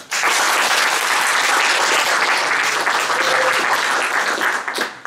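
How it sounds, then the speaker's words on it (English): Warm applause from a seated audience at a talk on technology-regulated investment funds, loud, dense clapping that starts abruptly, holds steady for several seconds, then thins out near the end. "I will hand over to Mona now and give her a warm applause and Melonport."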